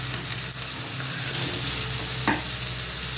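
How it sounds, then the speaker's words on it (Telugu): Beetroot, about a quarter kilo, tipped into a hot pan for a curry, sizzling steadily with a sharp scrape of stirring partway through, close and continuous. "ఇది ఇప్పుడు నేను 1 కప్ అంటే పావు కిలో బీట్రూట్ వేస్తాను దీంట్లో."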